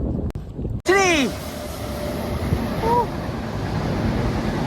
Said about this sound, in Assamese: আজি এই প্ৰশান্ত ৰ'দতো আজি বহুত বেছি মানে বতাহ মাৰি আছে